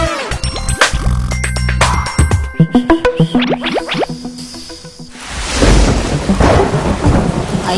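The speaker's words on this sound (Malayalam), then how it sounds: "അയ്യോ അച്ഛാ, മഴ പെയ്യുന്നു" Film sound effect of a rainstorm: sharp thunder cracks and rumbles in quick succession, followed by a loud rush of heavy rain, with no one talking.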